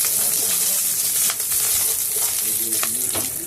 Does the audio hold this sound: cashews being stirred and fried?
yes